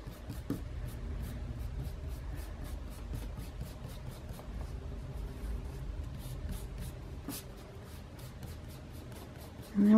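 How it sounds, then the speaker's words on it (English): Pencil guidelines being erased from paper, a steady close scratchy rubbing that continues without a break for about ten seconds, quiet and alone. "I'm actually going to erase all my little guidelines because they're driving me crazy"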